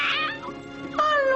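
A cat meows several times in a row, drawn-out and fairly close, with a rising, wavering cry near the end and no talking.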